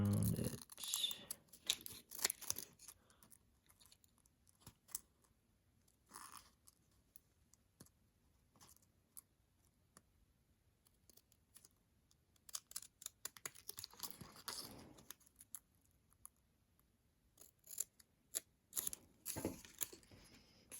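Scissors cutting a paper airplane template, sparse crisp snips and paper rustles in short clusters separated by quiet gaps, close up.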